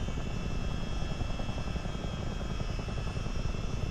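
Rotor and engine drone of a CH-47D Chinook tandem-rotor helicopter in a flight simulator, a steady loud broadband roar with a rapid low throb held constant throughout.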